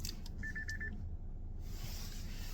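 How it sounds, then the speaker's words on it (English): A brief run of about five quick electronic alarm beeps, fairly faint, over a low steady hum, then quiet room tone. "Oh, the other alarm."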